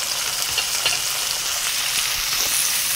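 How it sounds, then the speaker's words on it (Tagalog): Peeled shrimp hit a pan of sautéing onion, garlic and ginger, producing a loud, continuous hiss of frying with faint stirring clicks underneath. "ilagay na natin ang ating binalatang hipon guys"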